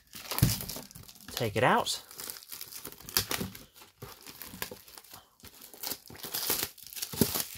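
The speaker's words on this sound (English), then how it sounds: "Let's go ahead and cut the plastic off of this one." Plastic wrap on a Pokemon Go Dragonite VSTAR Premier Deck Holder card box is cut and crinkled off in close, irregular bursts of crumpling and tearing, with a person talking over it.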